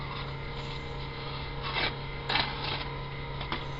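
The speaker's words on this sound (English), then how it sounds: "Now I'm going to use a 600 wet and dry for this" A 600-grit wet and dry sandpaper rubbing over a bare Xbox controller shell, giving faint, soft rasping strokes in short bursts over a steady low hum.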